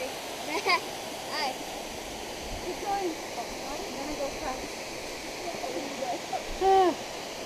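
Constant broadband roar of Chedoke Falls, with children's voices and calls rising briefly above the rushing water.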